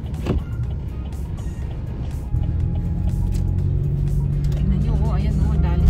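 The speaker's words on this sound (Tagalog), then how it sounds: "Hirap yung mga sasakyan." Cars labor through slushy snow on a road, giving a steady low engine drone that thickens and grows louder partway through, with a voice faintly present.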